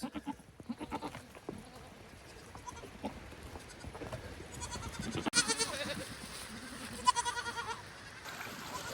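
Goats bleat off and on at a distance amid rustling and outdoor noise as the herd moves, with the cries growing busier toward the end.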